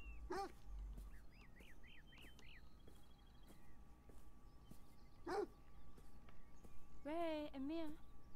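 A dog barks a few times inside the Beyond Eyes video game, set on a town street, with short sharp barks scattered among other game sounds and chirps over a soft background.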